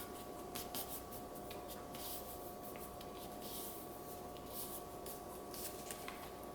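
Gift-wrapping paper being folded and creased by hand: faint, close rustling and crinkling with several sharper swipes and rubs along the fold, quiet and continuous with no talk.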